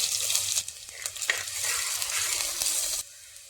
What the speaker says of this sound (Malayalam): കടുക് പൊട്ടി കഴിയുമ്പോൾ അതിലേക്ക് ഉള്ളി അരിഞ്ഞത് ചേർത്ത് കൊടുക്കാം.